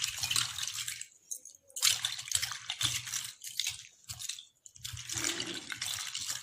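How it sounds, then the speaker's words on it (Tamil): Gold jewellery is dipped and swished in water for rinsing after a soap cleaning, making intermittent close splashes, drips and sloshing bursts separated by brief pauses, with no voices. "இப்போது இதை தண்ணியில் போட்டுடலாம்."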